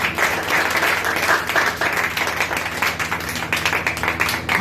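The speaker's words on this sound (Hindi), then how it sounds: "यीशु के लिए एक जोरदार ताली बजाएं।" A church congregation claps loudly for Jesus, a dense, steady burst of applause that fills the room without pause.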